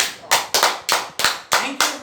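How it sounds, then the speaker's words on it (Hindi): Hands clap close by in a slow, even rhythm, seven or eight sharp, loud claps about a quarter second apart at a motivational talk. "जोरदार तालियों चाहिए"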